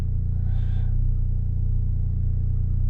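Ford Focus Mk4 running in sport mode, a steady low engine and exhaust rumble at idle, close and continuous, with a faint higher whine briefly rising over it.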